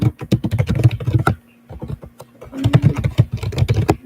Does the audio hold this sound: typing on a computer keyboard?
yes